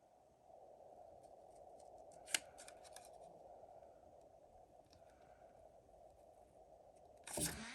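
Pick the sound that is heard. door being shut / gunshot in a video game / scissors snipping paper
scissors snipping paper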